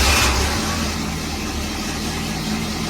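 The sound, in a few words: 1968 Firebird car engine started and running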